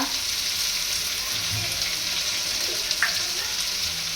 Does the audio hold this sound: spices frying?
yes